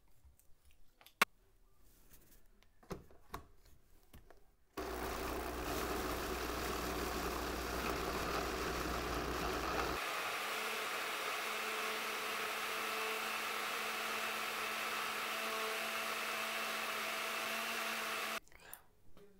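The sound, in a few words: blender grinding sauce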